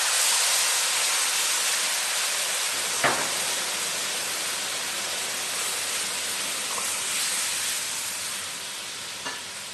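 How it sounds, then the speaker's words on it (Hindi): Water poured into a pan of hot roasted semolina and sugar for suji halwa sizzles and hisses in a steady, close, fairly loud wash, with a couple of brief sharper spits along the way. "चीनी डालने के बाद इसके अंदर हम 4 कप के करीब पानी डाल देंगे।"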